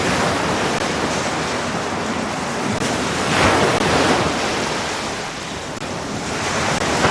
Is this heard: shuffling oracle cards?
no